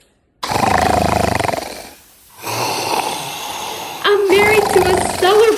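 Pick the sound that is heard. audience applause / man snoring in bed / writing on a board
man snoring in bed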